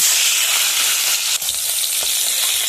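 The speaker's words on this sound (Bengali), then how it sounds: "মাছটা নুন হলদি মাখিয়ে নিয়েছি, এবার মাছটা ভেজে নেব।" Pond fish rubbed with turmeric and salt fry in hot oil with a loud, continuous, close sizzle and a faint scrape or two, with no one speaking.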